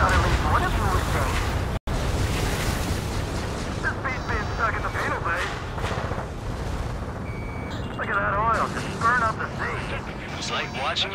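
Burning oil targets explode in the Ace Combat 7 flight game, deep booming blasts and rumbling fire under continuous engine drone, alarm-like tones and radio chatter.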